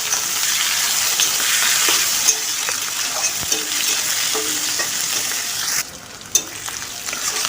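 Chopped onion and garlic fry in hot oil with a steady, close sizzle, broken by a few scraping stirs of a spatula, while jackfruit and prawn curry is cooked; the hiss drops briefly near the end before returning.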